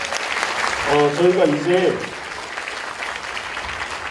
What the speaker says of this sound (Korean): 좋은 강연 도와주신 조국 대표님께 다시 한번 큰 박수 부탁드리겠습니다